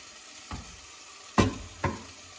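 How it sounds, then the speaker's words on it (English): Two fresh tomatoes and a spoonful of passata are stirred in a hot pan, three separate spatula scrapes over a quiet background sizzle. "Give it a nice stir."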